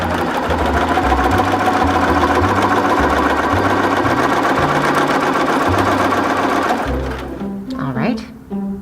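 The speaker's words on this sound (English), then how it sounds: "I'm just going to stitch a line," Sewing machine stitching a straight line through two layers of fabric with washaway thread, a steady close rapid mechanical chatter, stopping near the end as a voice speaks.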